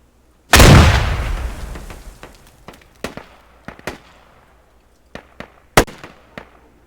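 A grenade blast in a competitive video game match lands as one loud, sharp explosion with a rumbling tail, followed by scattered, distant pops and cracks of gunfire spread across the following seconds.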